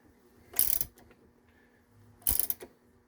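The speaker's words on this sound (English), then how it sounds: "you're going to tighten to the recommended manufacturer's spec" A ratchet tightening a part on a Honda EU2000i generator during a tune-up, two short bursts of quick clicking about two seconds apart, close and fairly quiet against a still background.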